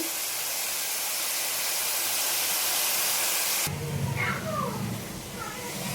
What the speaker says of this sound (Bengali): সবজিগুলো একটু ভেজে নেব।